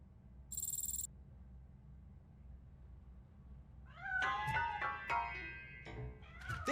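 A cat hiding inside a piano in Robocop: Rogue City lets out several meows in quick succession, each rising and falling, over a low ambient hum. A brief high electronic tone comes before the meows.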